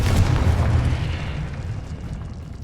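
Confringo blasting spell in Hogwarts Legacy, a loud booming explosion right at the start that rumbles on and slowly fades over a couple of seconds, with no talking.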